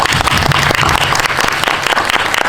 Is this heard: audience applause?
yes